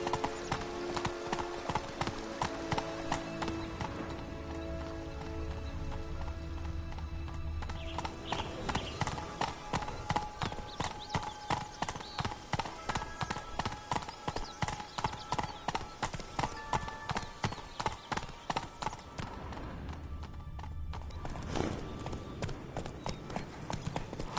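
Roach, a horse in a video game, gallops with steady, loud clip-clop hoofbeats throughout, joined by a musical score and a brief whinny, with no talking.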